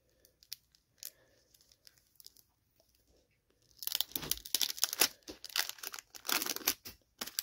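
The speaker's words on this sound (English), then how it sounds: "Opening these packs, definitely hazardous." Crinkling and tearing of brittle decades-old plastic wrapping on a 1979 Topps New York Yankees baseball card pack, a few faint handling sounds, then several seconds of loud, close, continuous crackling and ripping.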